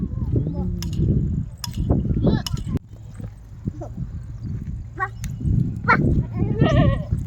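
Sheep out in a flock bleat repeatedly at close range, the calls mixed with shuffling, hoof sounds and people talking nearby.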